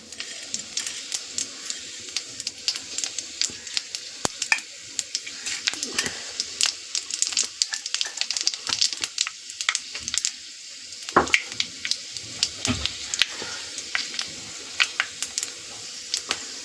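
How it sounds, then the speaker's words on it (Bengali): Five-spice seeds tempering in hot oil for a small-fish chorchori, a steady crackling sizzle with scattered sharp pops that continues for a long stretch, fairly close. "তেলটা গরম হয়ে গেছে, এবার তেলের মধ্যে দিয়ে দিচ্ছি আমি"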